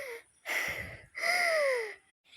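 Two loud, close, strained voiced gasps for air from a character struggling to breathe in a children's story about not destroying plants, each a drawn-out wheezy intake separated by a short pause, with no talk over them.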